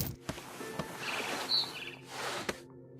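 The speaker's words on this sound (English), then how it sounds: "Then I heard chirping outside my window. It was a barn swallow going back to her nest." Barn swallow chirping outside a window in the game What Remains of Edith Finch, brief high chirps over a steady ambient wash of background sound, with no talking.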